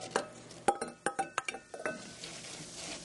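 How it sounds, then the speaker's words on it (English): A utensil stirring diced, peeled red delicious apples into molasses makes a brief flurry of close clinks and scrapes against a bowl, then fades to quiet. "So I'm going to stir that into the molasses."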